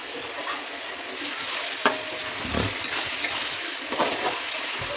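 Onions frying in a pan with chili chicken masala and sauces, giving a steady close sizzle with a few scraping stirs and clicks of a utensil against the pan, no talking.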